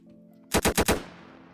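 Roblox FPS game gunfire, a quick burst of four loud sharp shots in even succession, followed by a short fading tail over a faint background hum.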